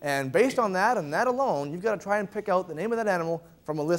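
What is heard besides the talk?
None of the usual background noises is heard.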